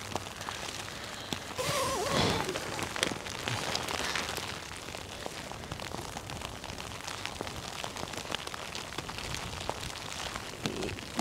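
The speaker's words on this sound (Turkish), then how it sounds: "Çok güzel yağıyor." Rain patters steadily on a tent from inside, a dense even hiss of drops with occasional louder taps and a brief rustle near the start, close and continuous for the whole stretch.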